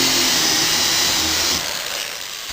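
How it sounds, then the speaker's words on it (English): An electric drill boring holes into hardwood floor boards, a loud continuous whine close up that drops off toward the end. "So what I did was I just took a drill and drilled several holes around like this."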